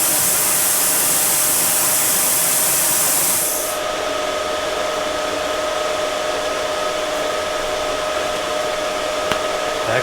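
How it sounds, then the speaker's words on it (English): A plasma cutter cuts metal on a Tacoma build, a loud, steady, close hiss that runs for several seconds, then drops to a quieter, continuous hiss with a faint hum. "What happens when you get too close to the plasma cutter."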